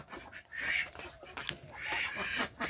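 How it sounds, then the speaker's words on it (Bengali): Farm ducks quacking in bursts as they scurry about, wanting to get outside; calls come in two dense clusters, fairly close and moderately loud, with chickens kept nearby. "এই হচ্ছে হাঁসগুলো বাহিরে যাওয়ার জন্য ছোটাছুটি করতেছে"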